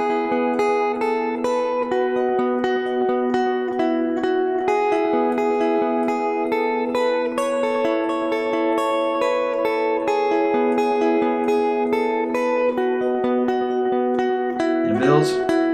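Clean, chiming lead guitar line for the chorus build of a song, with ringing sustained notes over steady strummed backing, loud and continuous, ending with a quick slide.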